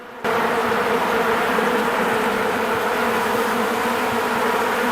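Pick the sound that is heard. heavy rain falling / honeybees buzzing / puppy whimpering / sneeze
honeybees buzzing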